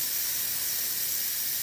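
An electric pressure cooker vents steam through its release valve in a loud, unbroken hiss close at hand, with no change in strength and no one speaking over it.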